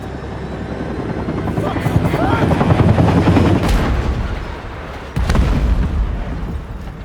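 Helicopter in the video game Still Wakes the Deep lifting off from an offshore helipad, a loud steady rotor roar that builds and swells, with a sharp louder burst near the end; a voice speaks faintly underneath.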